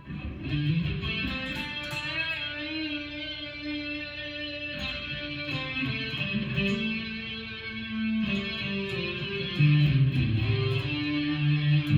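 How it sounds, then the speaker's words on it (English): A sustained electric instrument line drenched in echoing delay, lush reverb and shimmering chorus, notes ringing out and overlapping steadily with no voices. "We are going to add a little delay, reverb, and some chorus."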